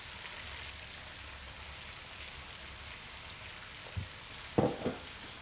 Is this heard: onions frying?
yes